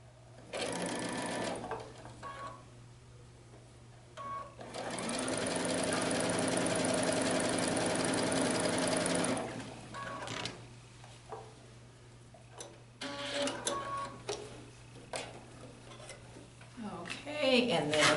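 A sewing machine stitches quilt block pieces in bursts, with one long steady run of needle clatter in the middle and shorter runs around it, close by, with handling noises in the pauses.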